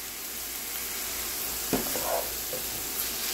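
Minced garlic cooks in a pan for a spinach artichoke dip, making a soft, steady sizzle with a couple of faint clicks near the end; no talk is heard.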